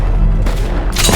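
A gunshot in Fable 3 lands as a loud, booming blast with a second heavy burst near the end, short and close.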